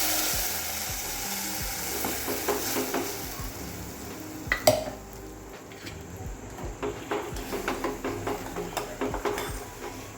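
A steady sizzle from a hot pan of tempering, with a sharp splash and clatter midway as a curd mixture for kadhi is poured in, followed by stirring scrapes over continued frying.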